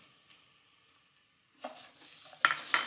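Arborio short grain rice tipped into a hot pan with garlic and thyme, a near rustling scatter and stirring scrape that starts after a quiet stretch, then swells into louder bright sizzles toward the end.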